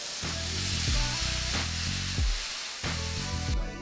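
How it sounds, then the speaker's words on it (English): Vegetables with crushed red peppers sauté in a hot pan for pasta primavera, a steady close sizzle broken by repeated scraping and stirring strokes of a utensil, no talk. "I'm gonna saute these for about another couple minutes"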